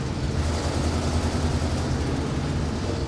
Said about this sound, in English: Listen to that old 460 purr